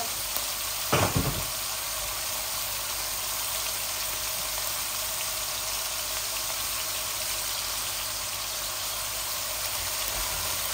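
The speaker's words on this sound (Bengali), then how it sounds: "আমার সিম আর মূলাটা ভালো করে ভাজা হোক, ভুনা হোক" Flat beans and radish fry with chili and spice powders in a pan, giving a continuous, even sizzle and hiss throughout, with a brief knock of a utensil near the start and no talking.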